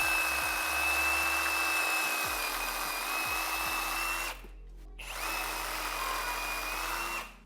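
Reciprocating saw (Sawzall) cutting through a whole deer carcass during butchering, a loud steady buzzing saw run with a brief stop partway, then cutting resumes before winding down.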